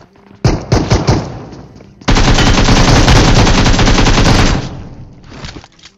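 Rapid automatic gunfire in a shooting video game, loud and close: a short opening burst, then a long sustained stream of shots that tapers off, followed by a few quieter trailing shots.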